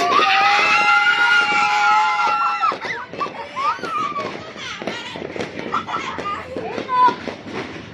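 New Year's Eve fireworks go off nearby, starting with whistling tones and then breaking into a string of sharp crackles and pops, with people talking over them.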